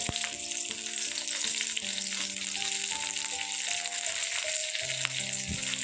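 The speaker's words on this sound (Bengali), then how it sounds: "ফোড়নটা ভালো করে ভেজে নিয়েছি" Four slit green chillies and half a spoon of nigella seeds fry in hot oil, producing a loud, steady crackling sizzle with faint music underneath.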